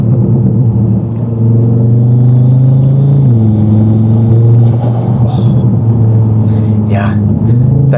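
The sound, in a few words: Audi TT RS 5-cylinder engine open intake roar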